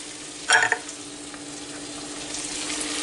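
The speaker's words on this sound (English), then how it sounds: "So we're going to give this a stir, just to get it all together there, coated with the oil" Green onions, thyme sprigs, tomato and fresh turmeric hit hot oil for seasoned yellow rice, with a brief burst of spatula stirring early on over a low, steady sizzle.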